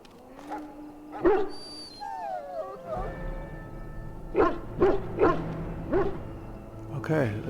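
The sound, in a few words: dog barking in Dragon Age: Origins video game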